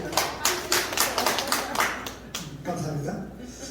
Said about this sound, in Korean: 여기서 박수 한번 나와야 되는데.